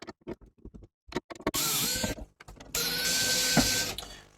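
An electric screwdriver backs screws out of a Nakamichi CD player, whirring in short bursts and then in two longer sustained runs, close and fairly loud, with clicks and small handling noises between.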